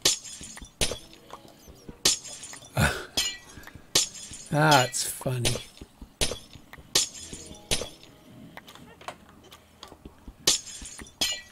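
Glass blocks breaking in Minecraft, a run of repeated sharp shattering crashes at irregular intervals, with someone talking briefly partway through.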